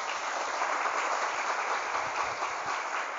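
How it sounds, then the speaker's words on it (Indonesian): An audience at a motivational event in a pesantren (Islamic boarding school) applauds a student named Faisal, producing a dense, steady wash of clapping that fills the whole stretch at an even level. "Tepuk tangan buat Faisal."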